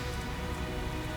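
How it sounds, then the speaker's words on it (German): Rain in the video game Tales of Zestiria falls steadily on surfaces, a dense constant patter of drops filling the scene at moderate level, with no talking. "Dauerregen ist auch nicht gut."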